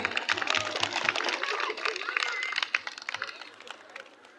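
Audience applause for a singer at a live event, a crowd clapping briskly at moderate distance, with voices mixed in before the clapping thins out.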